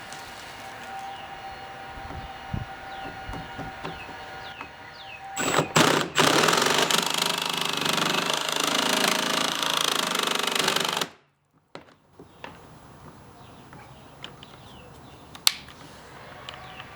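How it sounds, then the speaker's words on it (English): A saw fitted with a fine-toothed metal cutting blade cuts through a bumper vent on a Porsche 987 Cayman, running loud and steady for about six seconds before stopping abruptly, with quieter handling noises around it. "I actually switched to a metal cutting blade that's 23 or maybe 24 teeth per inch. That'll just give me a bit of a cleaner cut."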